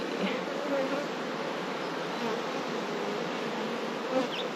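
Honey bees hum in a dense, steady drone around a hive comb during queen rearing, a close, continuous buzz with individual insects passing near now and then.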